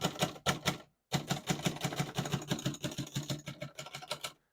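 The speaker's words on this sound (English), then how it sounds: "We're going to keep it on single for now and finish typing." Fast key strikes on a 1940 Remington Deluxe Noiseless portable typewriter, a close, dense run of muted clacks with a short pause near the start, then steady rhythmic typing.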